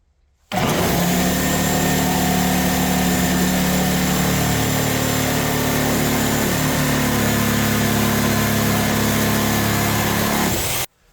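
A reciprocating saw fitted with a Lenox demolition blade runs at full power for about ten seconds, a loud, steady, buzzing mechanical drone that starts and stops abruptly, close up and with no voices.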